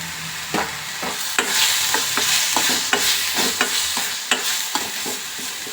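Crab sukka masala sizzles in a pan as garam masala is stirred in, with a steady frying hiss broken by a dozen or so sharp scrapes and clacks of the spoon at an uneven, brisk pace.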